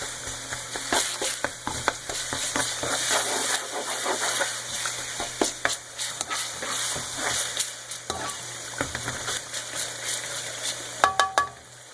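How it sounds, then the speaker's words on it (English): Garlic frying in a generous pool of hot oil gives a loud, steady sizzle close by, with stirring scrapes and clinks running through it and no one talking. "you want to get this garlic to go a little bit golden."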